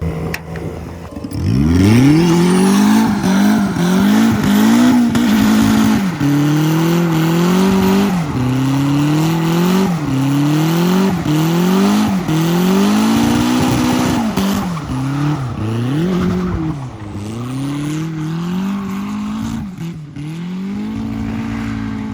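A close, loud rotary engine in an old Mazda RX-7 FC revs over and over, its pitch climbing and dropping, sounding a little rough and uneven at times as it breaks up.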